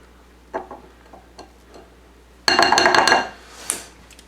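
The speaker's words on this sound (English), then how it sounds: "scrape down the bowl" A spatula scraping around a bowl of homemade mayonnaise, a few light taps and scrapes, then a louder busy clatter and scrape against the bowl before a final knock.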